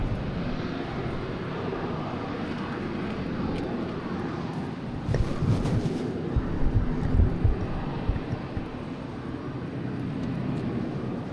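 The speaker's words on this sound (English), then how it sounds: "We have a next takeoff, I believe, is the Frontier." A Frontier airliner taking off at Boston Logan Airport makes a steady broadband jet roar that swells a little midway, heard from a distance across the airfield.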